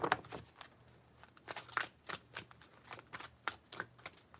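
Tarot cards are shuffled with soft, irregular slaps and flicks, close but faint, in several brief bursts.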